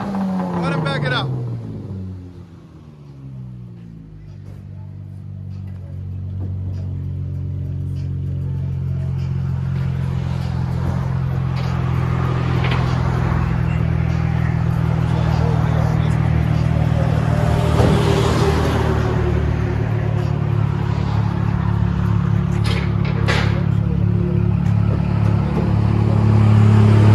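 A 2016 Chrysler 300 S with a V6 and straight-piped dual exhaust backs up, its deep, steady idle rumble building gradually and holding loud and close throughout, with people talking faintly in the background.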